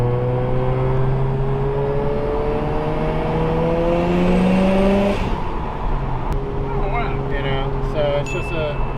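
A customer's turbocharged rotary-engine car on a rolling pull, its engine note climbing steadily and loudly for about five seconds before easing off, with interior rumble and faint clicks afterward.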